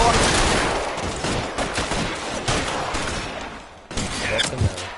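A gunfight in the video game L.A. Noire, with loud sustained bursts of gunfire and rapid shots for most of the stretch, a brief lull, then more shots.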